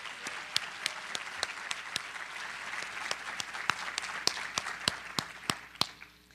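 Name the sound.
round of applause at ceremony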